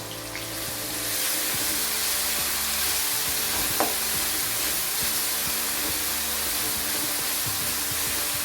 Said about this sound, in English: We have to fry this very well.